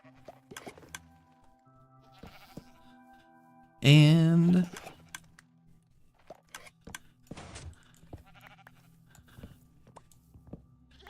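A goat bleats once, loudly and with a quavering tone, in Minecraft during a steampunk modpack session. Quiet footsteps and block clicks surround the call.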